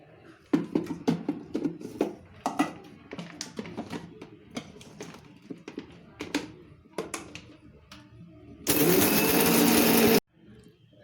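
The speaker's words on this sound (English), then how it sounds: "I'm going to grind all these to a nice powder." An electric mixer grinds curry leaves and spices into a fine powder for curry leaf rice bath. Irregular tapping and clattering come first, then one loud, steady grinding whir that lasts about a second and a half before it stops.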